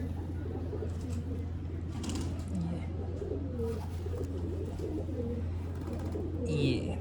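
Pigeons coo softly and repeatedly at a bustling Lucknow pigeon market, their low warbling calls scattered over a steady hum, with faint chirps and background noise throughout.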